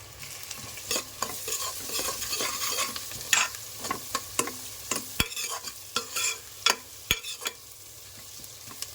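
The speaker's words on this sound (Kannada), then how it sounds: "ಈರುಳ್ಳಿ ಸ್ವಲ್ಪ ಬೇಗ ಕಾಯಬೇಕು ಅಂದರೆ ಸ್ವಲ್ಪ ಉಪ್ಪು ಹಾಕಿ, ಆಗ ಈರುಳ್ಳಿ ಬೇಗ ಫ್ರೈ ಆಗುತ್ತೆ" Onions and tomato fry in a pan for pulao, sizzling steadily while a spoon stirs and scrapes in repeated sharp strokes. The sound is close and clear, with no voices.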